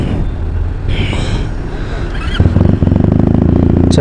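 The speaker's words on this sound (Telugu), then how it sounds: "ఇప్పుడు అయితే బైక్ అయితే స్టార్ట్ అయిపోయింది" A Benelli TNT 300 motorcycle fitted with an SC Project exhaust, its engine idling close by with a throbbing, uneven pulse that grows louder and rougher partway through.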